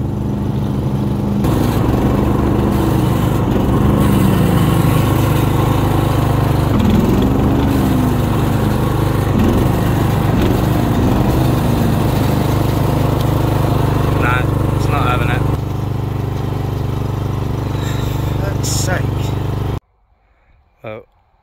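A faulty lawn mower engine running loud and close, with a steady drone and wavering, uneven tones throughout, then cutting out abruptly near the end, leaving brief quiet with a small knock.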